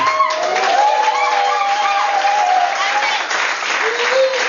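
A church congregation claps and cheers during a sermon, with continuous applause throughout and voices calling out over it.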